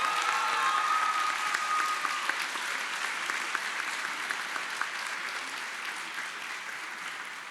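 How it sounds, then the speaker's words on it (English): An audience at a senior night awards ceremony claps in sustained applause that starts full and slowly tapers off, with no voices over it. "please give a round of applause to Hannah Rosa."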